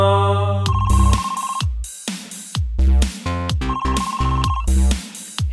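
An electronic phone ringtone plays in loud, repeated melodic bursts with sharp percussive hits and brief gaps, sounding close and clear with no voices.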